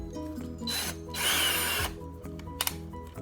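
A Stanley 18 V cordless drill whirs in two short bursts, the second longer and louder, with faint clicks and handling noise between them and no speech.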